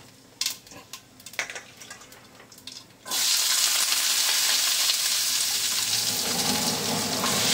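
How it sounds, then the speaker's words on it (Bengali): A few seconds of light clinks and taps give way to a sudden, loud, steady sizzle as cumin seeds hit hot oil, continuing close and unbroken to the end. "একটু জিরে ফোড়ন দিয়ে দিলাম।"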